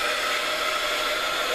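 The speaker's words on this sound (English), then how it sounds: "I have what's called a heat gun here." Steady, loud whooshing roar of a heat gun blowing air, constant and unbroken, with no talking.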